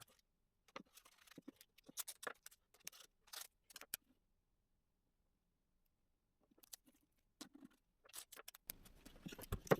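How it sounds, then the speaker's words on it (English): Masking tape pulled and pressed onto wooden bowl pieces, quiet close crackling and ripping bursts separated by silence, then a denser stretch of tape noise at the end. "Before I glue, I tape the pieces together."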